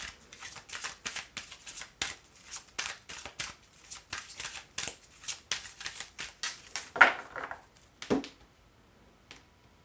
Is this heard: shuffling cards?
yes